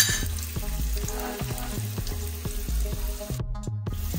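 Mutton for biryani being stirred with biryani masala, salt, chillies and turmeric, a steady close sizzle broken by regular scraping strokes of a spoon in the pot, with a brief burst of water-like noise near the end.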